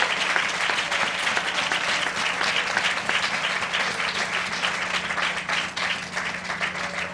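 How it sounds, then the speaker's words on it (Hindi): Steady, loud applause from a church congregation at a Hindi Christian service, clapping continuously throughout in praise and thanks, with no speech over it. "जब मैं ताली बजाकर परमेश्वर का धन्यवाद करें"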